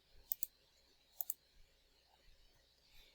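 Sharp computer mouse clicks while a text box is made in a document over a Zoom session: two quick pairs of crisp clicks near the start and middle, then a few fainter taps, close and quiet with no talk.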